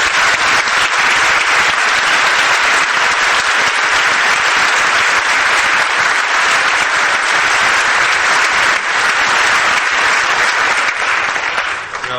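Audience applause fills a campus dedication ceremony hall in 1993, a dense, sustained wash of many hands clapping at steady loudness for about twelve seconds before easing slightly at the end.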